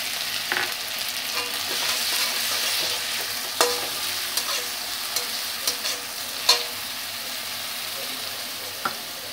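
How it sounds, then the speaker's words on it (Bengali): Ginger, garlic and green chili paste sizzles with fried onions in a pan while being stirred for chana masala, a steady hiss broken by a series of sharp scraping clicks of the spoon. "এবার আমি আদা, রসুন, কাঁচা লঙ্কা পেস্টটা তৈরি করেছিলাম ওটা দিয়ে দিলাম।"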